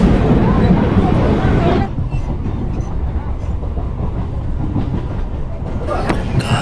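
Crowded Bangaon local train heading to Sealdah, a loud steady rumble with rhythmic clatter heard from inside the carriage, with a murmur of passengers in the background.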